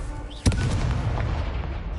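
A single sharp spell explosion in the video game Hogwarts Legacy, a loud close boom followed by a rumbling, fading tail.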